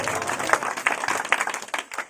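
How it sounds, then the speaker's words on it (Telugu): A church revival meeting audience claps together in praise, a short burst of fairly loud, uneven applause that fades toward the end. "చప్పట్లు కొట్టి దేవుడికి స్తోత్రం చెప్పాలి"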